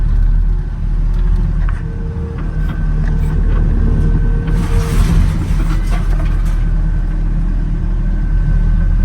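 A junkyard Honda Civic limo engine idling on its own, a loud, steady rumbling drone with a constant low hum, close up and without speech.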